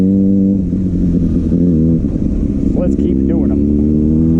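A Kawasaki ZX6R motorcycle engine drones loud and close during a rolling burnout, holding a steady high rev with slight pitch wavers, while a rider speaks briefly over it.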